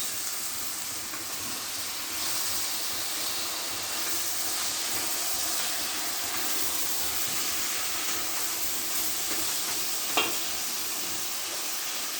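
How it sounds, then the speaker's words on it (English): Tomatoes frying in a pan for mutton biryani make a loud, dense, continuous sizzle and hiss with faint stirring underneath, plus one short scrape near the end. "Fry it up a little and I add in my tomatoes"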